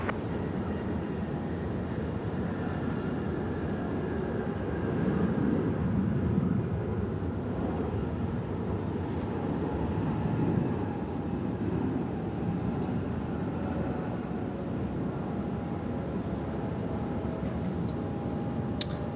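A Qantas airliner arriving from Perth at Sydney Airport at night rumbles steadily at a distance, a broad, even roar that holds for the whole stretch with no talk over it.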